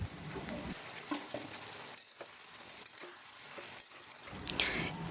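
Mixed vegetables with ginger and green chillies sautéing in a pan, with a steady sizzle that swells loudly at the start and end and dips in between, punctuated by soft stirring scrapes, close by and without talk.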